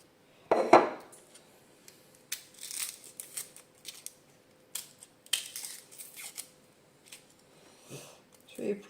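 A knife peels an onion in a home kitchen, heard as faint, scattered scraping and crinkling of the papery skin with a few sharper clicks and quiet pauses between them.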